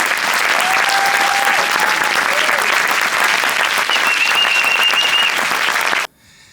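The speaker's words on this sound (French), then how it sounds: "C'est vos applaudissements, s'il vous plaît." Sustained applause from the audience at a film festival closing ceremony in Guadeloupe, loud and even throughout with faint voices mixed in, then cutting off abruptly near the end.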